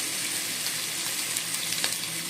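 Pork with cashews and black fungus stir-frying in a wok gives a steady, loud sizzle, with a few small pops and crackles of the fungus bursting through it and no talk.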